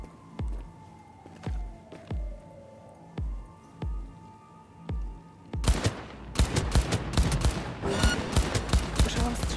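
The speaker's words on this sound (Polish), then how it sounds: "Słyszałam strzały." Gunfire in the video game Cyberpunk 2077: a slow series of evenly spaced heavy thuds gives way to dense, rapid automatic bursts that grow loud and continuous, with no speech over it.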